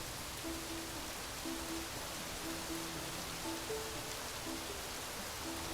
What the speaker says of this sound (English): we've got ourselves a torrential downpour, ladies and gentlemen. It's pouring down rain.